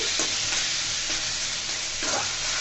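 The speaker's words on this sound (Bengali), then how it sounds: "যে ফুলকপির ডাঁটাগুলো আমি বেটে রেখেছি সেগুলো দিয়ে দিলাম, দিয়ে আমি নেড়ে চেড়ে দিচ্ছি।" Ground cauliflower stems fry in a hot pan while being stirred, giving a steady close sizzle broken by a few scraping strokes of the spoon, with no talking.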